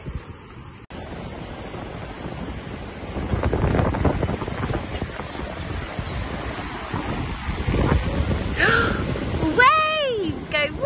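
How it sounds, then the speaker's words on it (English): Sea waves at a beach: surf washes in and out under heavy wind buffeting on the microphone, and voices and a high vocal call are heard near the end. "Waves!"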